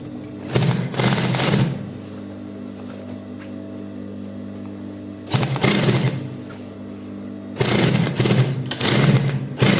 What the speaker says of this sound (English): Then we'll continue to sew around.